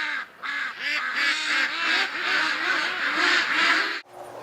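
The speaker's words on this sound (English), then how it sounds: "Good morning, ducks!" A flock of ducks in winter quacks continuously and loudly nearby, overlapping calls forming a dense chorus that cuts off abruptly near the end, followed by a quieter tail.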